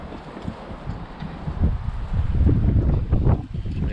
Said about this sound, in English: I need to get out of this wind, it's ridiculous.